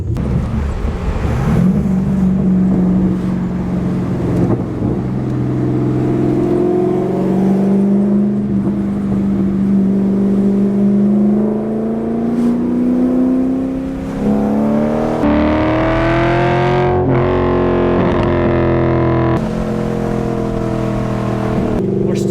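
Loud, continuous engine rumble from a C5 Corvette revving through long-tube headers, X-pipe and no mufflers, pitch climbing and falling through several throttle swells, raw and throaty throughout.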